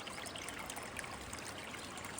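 Water trickles and drains out of a dinghy on a wilderness river float trip in Michigan's Upper Peninsula, a quiet, continuous burbling dribble heard close up with no talking.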